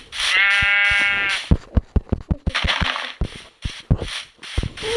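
A sheep bleats loudly once in Minecraft Pocket Edition, followed by a series of sharp clicks and thuds and further shorter bleating bursts, with a game-like quality.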